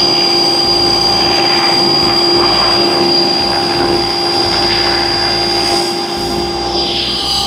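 A DEVIL X360 H1 GPS radio-controlled helicopter lifts off as its throttle is raised, producing a loud, close, steady motor whine and rotor buzz that holds constant throughout.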